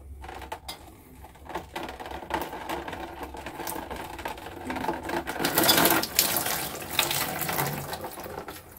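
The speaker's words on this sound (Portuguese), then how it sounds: "Aí vai sair um pouquinho d'água, então o ideal é colocar um balde aqui" Water splashing and draining from a pipe into a bucket while an old faucet is removed, an irregular trickling and spattering that grows louder midway, mixed with handling noises.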